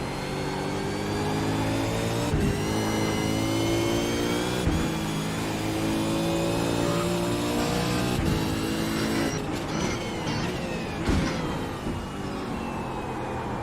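A race car engine in a racing video game drones and revs, rising and falling in pitch as cars pass close by, with sharp gear shifts punctuating the steady roar.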